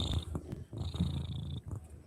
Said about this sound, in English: like there's a different cat purring.